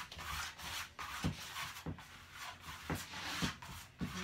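Liquitex paint is spread over the top of a painting in soft, quiet, rhythmic rubbing strokes, roughly two per second, heard close and faint.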